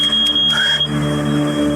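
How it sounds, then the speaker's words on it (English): A smoke alarm inside a house sounds a loud, piercing, steady high-pitched tone that briefly wavers, with no voices over it. "the alarm went off, filling the house with a loud, piercing noise"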